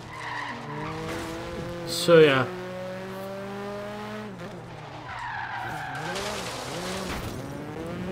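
A McRae Sierra Cosworth rally car in Forza Horizon 3 power-slides, its tires skidding in a brief loud burst over a steady engine drone, with someone talking over the driving.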